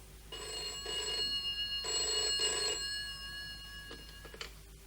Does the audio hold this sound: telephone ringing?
yes